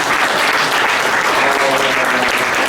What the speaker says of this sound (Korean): 같이 한번 이 시간에 먼저 박수 한번 크게 하고